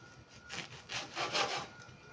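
Bread being sliced at a 45-degree angle into quarter-inch pieces for bruschetta, a raspy sawing of a knife through crust in several close strokes, steady and fairly quiet with no talk.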